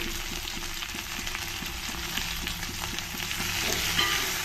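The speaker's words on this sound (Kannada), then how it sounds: "ಇದೊಂದು ಎರಡು ನಿಮಿಷ ಸುಮ್ಮನೆ ಹಾಗೆ ಫ್ರೈ ಮಾಡ್ಕೊಂಡ ನಂತರ ಎಲೆ ಎಲೆ ಬಿಡಿಸಿಟ್ಟಿರೋ ಅಂತಹ ಚೆನ್ನಾಗಿ ತೊಳೆದಿರೋ ಅಂತಹ ಮೆಂತ್ಯ ಸೊಪ್ಪು ಸೇರಿಸ್ತಾ ಇದ್ದೀನಿ" Fresh fenugreek leaves fry in oil in a pan while a brinjal rice dish is cooked, a steady close sizzle with a faint rhythmic ticking running throughout and no talking.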